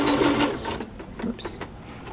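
Sewing machine stitching fabric and trims onto a chocolate-themed journal, a short quick burst of needle clatter that fades into a few softer, faint mechanical ticks.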